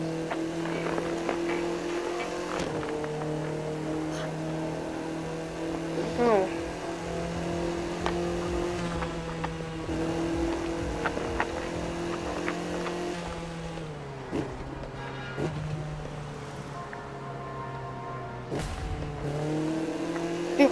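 A car driving a long trip from New York to Miami in a video game: a steady engine drone with shifting pitch, occasional revs and tire noise, under a voice talking now and then.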